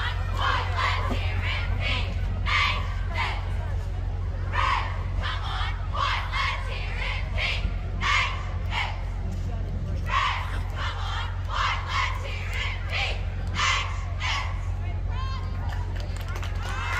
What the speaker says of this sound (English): At this time, they're going to perform the chant,